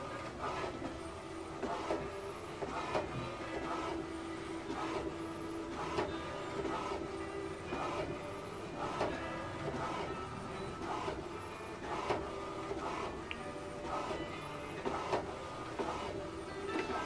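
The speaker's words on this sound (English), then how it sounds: "So this is printing right now photo." An HP DeskJet printer prints a photo, its carriage shuttling back and forth with steady rhythmic mechanical whirring and clicking pulses repeating every second or so, close and continuous with no talk.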